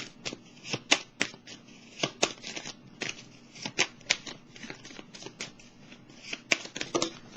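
Tarot cards are shuffled by hand in a quiet room, giving a string of crisp, irregular riffling snaps and soft slides that come in quick bursts with brief gaps between them.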